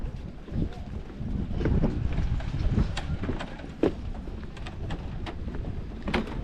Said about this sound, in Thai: มีลมพัดมาแล้วก็บวกกับกระแสน้ำ